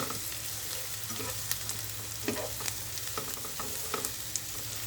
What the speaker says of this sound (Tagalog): Halo lang po ng halo hanggang lumabas yung aroma nila.